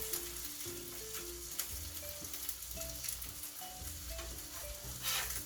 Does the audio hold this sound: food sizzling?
yes